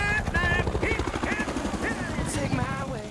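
A Disney Pixar Cars Dynamic King toy helicopter's whirring, chopping buzz runs steadily throughout, with excited voices talking over it.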